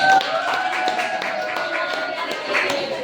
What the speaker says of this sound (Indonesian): kita sebelumnya tepuk tangan dulu dong buat kita